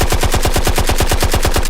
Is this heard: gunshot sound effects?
yes